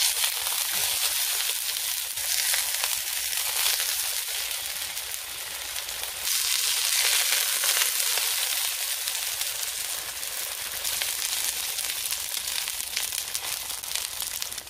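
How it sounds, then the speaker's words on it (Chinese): Tofu pan-fries in shallow oil with a steady, dense sizzle and fine crackling that carries on unbroken throughout, close and even in loudness. "煎呢个豆腐系冇难度嘅"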